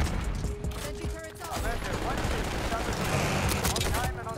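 A deployed sentry gun in Black Ops 6 multiplayer fires in dense, continuous automatic bursts, loud and close, layered with other gunfire and game effects.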